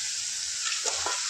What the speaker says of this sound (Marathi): आता त्यामध्ये मटण टाकून घेऊया।